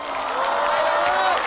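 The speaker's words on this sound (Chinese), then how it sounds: "我们给他们一点掌声好不好" A live stand-up comedy crowd gives a short, dense burst of applause for guests seated upstairs, a steady wash of many hands clapping throughout.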